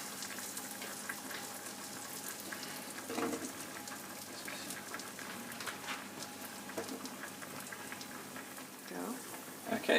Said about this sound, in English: so the mushrooms are just starting to brown